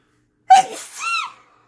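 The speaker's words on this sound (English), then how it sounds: "Isn't she the cutest sneezer?" A woman sneezes once in a kitchen, a quick sharp intake bursting into a short, high, squeaky sneeze with a breathy trailing end, close and clear.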